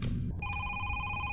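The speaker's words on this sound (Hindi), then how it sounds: "फिर से फोन आ रहा है मुझे" A telephone rings in the horror video game Is Simon There?, with a steady electronic ring tone cutting in after a short burst of low noise and holding clear and loud.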